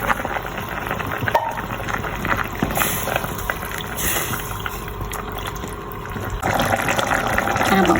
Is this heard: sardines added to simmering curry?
yes